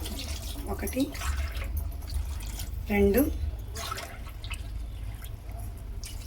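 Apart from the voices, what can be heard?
water being poured into biryani pot by glassfuls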